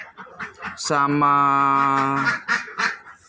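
A loud, drawn-out nasal honk from a duck on a duck farm holds for over a second, with shorter scattered quacks before and after it, close and clear.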